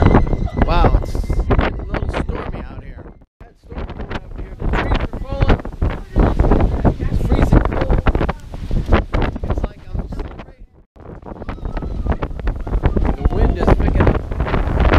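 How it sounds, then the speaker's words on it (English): Gusty wind and rain of a storm in Fornos, Spain buffet the microphone in loud, rumbling bursts, with brief lulls and faint voices mixed into the roar. "it's windy out and rainy"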